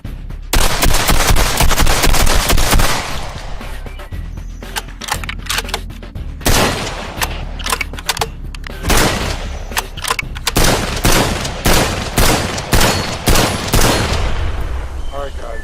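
Loud, dense gunfire rattles through an action-movie scene, with an opening sustained burst of automatic fire followed by rapid irregular volleys of close shots and short pauses between bursts.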